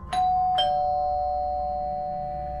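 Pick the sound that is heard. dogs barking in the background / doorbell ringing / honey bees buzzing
doorbell ringing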